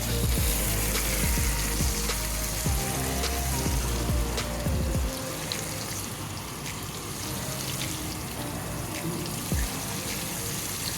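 Arctic char frying in butter in a hot pan gives a loud, steady sizzle, with a few low knocks and bumps early on and no voices.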